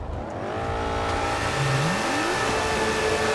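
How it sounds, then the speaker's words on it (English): Loud car engine revving in GTA 5, a continuous roaring drone with a rising then falling pitch sweep as it accelerates, close and steady throughout with no talk. "That car is so loud,"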